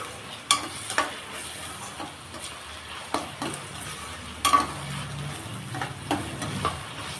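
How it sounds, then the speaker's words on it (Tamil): Tomatoes sautéing in a pan, a soft steady sizzle punctuated by sharp scrapes and taps of a spoon against the pan, close up and without speech. "இப்போ இதை ஒரு ரெண்டு நிமிஷம் நல்லா வதக்கி விட்டுக்கலாம்"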